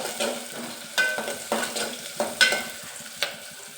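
Cloves and cardamom toasting in a pan for a spice mix, a close sizzling hiss broken by small sharp clicks and stirring scrapes, with no one talking.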